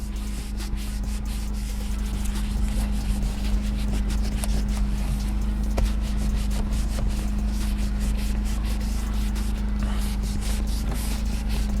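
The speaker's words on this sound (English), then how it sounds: "Simply just take it and contour it to the entire steering wheel and start scrubbing everything off." A cleaner-sprayed pad scrubbed across a car steering wheel during interior detailing gives steady, continuous rubbing and brushing noise, close and fairly loud, over a constant low hum with no talking.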